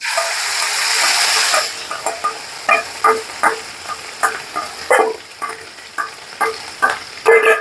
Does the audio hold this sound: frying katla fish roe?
yes